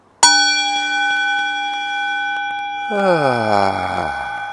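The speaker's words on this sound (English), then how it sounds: "Remembering the sound of the gong" A gong is struck once and rings on with steady, shimmering tones; a few seconds later a voice joins with a long, sustained sung note.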